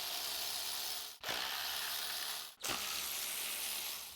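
A 10 millimeter ratchet backing out transmission pan bolts on a 2009-2018 Chevy Silverado with a 6-speed transmission, rapid continuous clicking close up, broken by two short pauses where the handle swings back.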